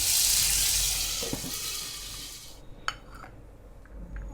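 Potato pieces fry in mustard oil with turmeric and salt, a dense bright sizzle for the first few seconds that then drops away, leaving faint spoon and pan clinks.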